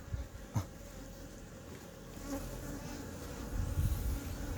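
Honeybees buzzing around an open hive of docile bees during a spring beekeeping inspection, a steady close insect drone that swells louder toward the end, with no talk.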